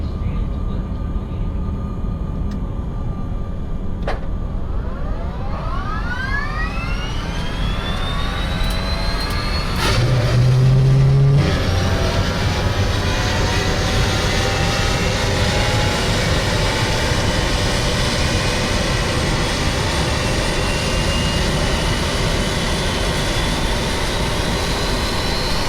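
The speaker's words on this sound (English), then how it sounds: "Engine left and right are off." Twin jet engines of an Eclipse 550 in the X-Plane 10 flight simulator give a loud, steady roar with turbine whines that glide in pitch, then settle into a dense, even drone that fills the cabin.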